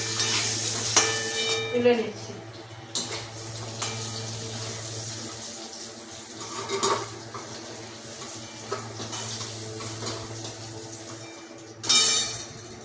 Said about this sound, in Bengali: পটলগুলো মনে হয় আমার ভাজা হয়ে গেছে,